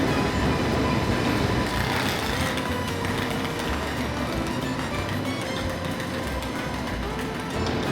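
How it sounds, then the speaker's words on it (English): A TGV high-speed train pulls out of a small French station on the way to Paris, giving a steady, loud rolling rumble with rail noise that stays fairly constant throughout, with no voices. "Oh, the TGV is leaving."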